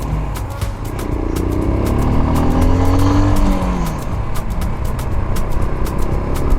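A ride-hailing motorcycle carrying a passenger revs and accelerates, its engine pitch rising and falling loudly and close up over a rushing wind and road roar.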